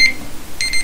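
An alarm clock in the Roblox game Jailbreak rings with two short, bright electronic beeps, one at the start and one near the end, loud and close with no talk over them.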